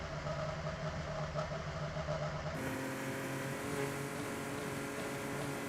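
An IndyCar engine in the iRacing sim idles steadily with a low, even drone as the car rolls back into the pits, held at a constant level with no revving.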